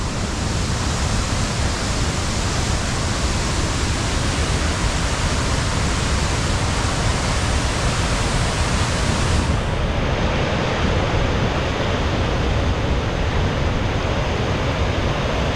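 Heavy rain pours steadily at the Mawkdok Dympep valley viewpoint in Cherrapunji, Meghalaya, a dense, unbroken broadband hiss with wind buffeting the microphone, loud and continuous throughout with no voices.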